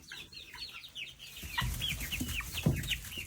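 Chickens and ducks at feeding time, a flurry of overlapping clucks and chirpy calls that thickens as the flock gathers, close by with no talking.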